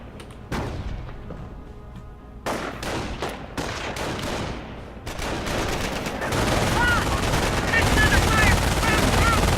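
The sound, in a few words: MG42 machine gun firing suppression in a video game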